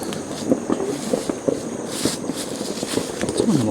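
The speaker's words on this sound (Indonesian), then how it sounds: "dengar tuh bunyi apa tuh? Dia dengar tuh mercun." Firecrackers go off near a lake, sharp scattered pops and cracks at irregular intervals over windy outdoor background noise.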